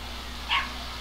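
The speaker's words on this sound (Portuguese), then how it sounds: "Na manhã seguinte, ouviu-se o barulho de um cachorro" A single short dog bark sounds once in The Legend of Dragoon video game, a brief bright yelp over a low steady background hum.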